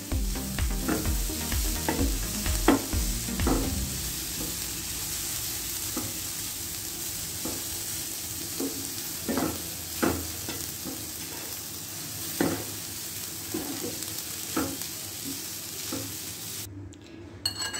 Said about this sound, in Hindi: बस सिर्फ इतना सा हमने इसे फ्राई करना है।